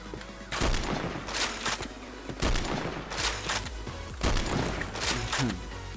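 Sniper rifle shots in the video game Point Blank, loud sharp reports repeating roughly every second, with a quick reload rattling between them.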